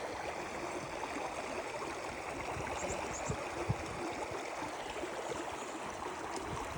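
A river rushing over rocks at a gold and sapphire fossicking spot, a steady broadband wash of flowing water, fairly close and continuous, with no speech.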